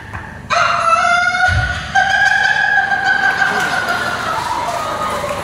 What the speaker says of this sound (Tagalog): Karang lalaki na manok.